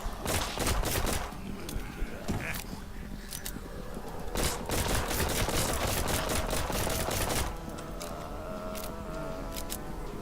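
Pistol gunfire in the video game Dead Purge: Outbreak rings out as rapid, repeated sharp shots in clustered bursts, loud and close against a busy game soundscape.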